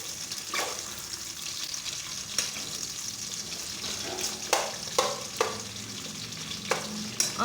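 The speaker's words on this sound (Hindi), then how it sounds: "अब हम इसमें प्याज डालेंगे, प्याज को ब्राउन करेंगे" Onions browning in hot ghee sizzle steadily while a spoon scrapes and knocks the pan several times in an irregular rhythm, close and fairly quiet.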